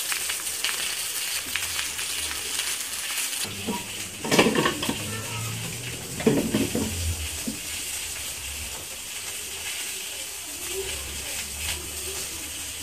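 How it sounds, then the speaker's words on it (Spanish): Quesadillas fry in a pan of oil with a steady hiss and sizzle, broken by a few clattering scrapes and clinks of a utensil against the pan. "Ahora en un sartén con aceite las vamos a freír."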